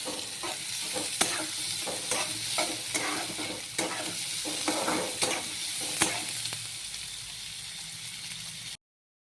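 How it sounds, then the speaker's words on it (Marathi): Two large chopped onions fry in about a ladle of oil in a pan, a steady close sizzle with intermittent stirring scrapes and clinks throughout, no voices. "दोन कांदे कापून घेतलेले टाकते मोठे कांदा गुलाबी रंग येईपर्यंत तळून घेऊया"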